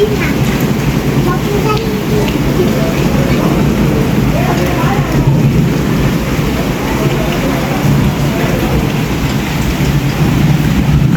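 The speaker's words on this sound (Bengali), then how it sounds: "সবাই বৃষ্টিতে ভিজছে" Rain pours down outdoors on a street where people walk through it, some carrying umbrellas. A loud, dense, unbroken wash of falling water holds steady throughout.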